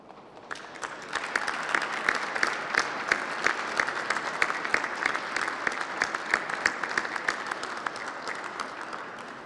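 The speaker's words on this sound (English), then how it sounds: "give them a big round of applause" A ceremony audience claps steadily for the families of promotees at a 2023 police medal and promotion ceremony, a dense, sustained round of applause that swells early and holds evenly for several seconds, with no talk.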